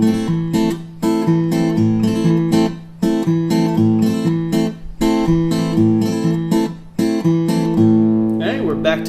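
Fingerstyle guitar plucks a steady, repeating rumba pattern of bass notes and chords, clear and close, with no voices.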